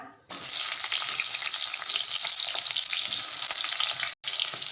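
Onion frying in a little hot oil in a kadhai for a soyabean chunk curry, a loud steady sizzle that runs unbroken and close, with one brief drop-out near the end.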